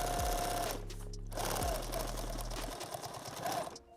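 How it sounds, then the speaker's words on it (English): Sewing machine stitching the seam of a foam-padded rifle case, running in steady bursts with short pauses between runs, close and fairly loud. "I'm just going to sew it"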